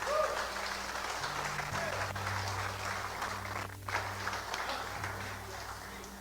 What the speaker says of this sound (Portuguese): Se coloca de pé e aplauda bem forte a Jesus.